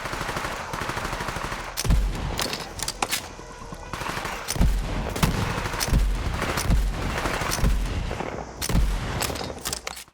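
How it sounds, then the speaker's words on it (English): A legendary shotgun called the One Pump Chump firing in Borderlands 3, with repeated loud, punchy blasts at irregular intervals over steady game ambience. "another legendary shotgun, and this one is called the One Pump Chump"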